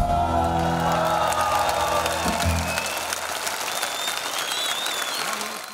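A large summer open-air amphitheatre concert crowd applauds, a dense wash of clapping that continues as held music fades out, with scattered whistles and cheers.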